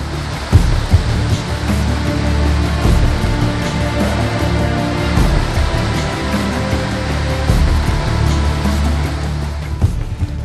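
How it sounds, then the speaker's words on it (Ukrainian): A waterfall pours down among exotic plants in the Kilimanjaro region of Africa, a steady, dense rushing roar of falling water, loud and continuous with no voices. "Водоспад виривається з поміж екзотичних рослин"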